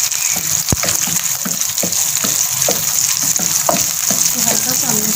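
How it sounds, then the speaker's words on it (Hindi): Capsicum and onion sautéing in a pan for chicken Manchurian, a steady bright sizzle with scattered stirring clatters and scrapes throughout, close and fairly loud. "हम इसमें शिमला मिर्च ऐड कर देंगे, इसके साथ ही प्याज ऐड कर देंगे।"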